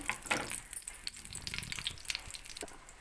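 Fish sizzles as it fries in reused oil in a frying pan, a steady crackling hiss with scattered louder pops throughout, close and continuous, with no voices.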